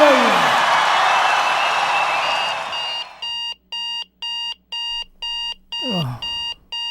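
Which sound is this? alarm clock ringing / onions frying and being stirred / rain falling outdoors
alarm clock ringing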